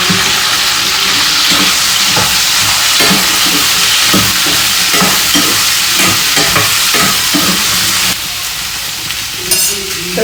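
Okra (bhindi) and potatoes fry in a pan with a loud, dense, continuous sizzle close by, stirred with regular scraping strokes, easing slightly quieter near the end.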